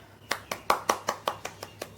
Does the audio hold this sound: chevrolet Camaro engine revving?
no